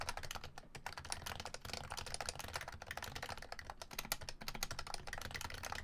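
Rapid typing on a mechanical keyboard fitted with BKE domes, a close, continuous clatter of quick keystrokes with a few brief pauses.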